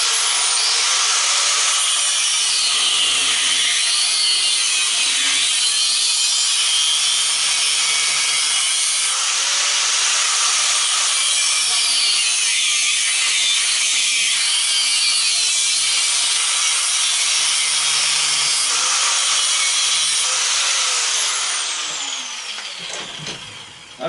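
A power saw cuts open a small electric fan motor for over twenty seconds, a loud continuous grinding whine through metal that winds down at the end.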